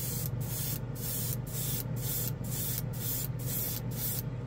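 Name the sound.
Badger Sotar 2020 airbrush spraying Star Gold metallic paint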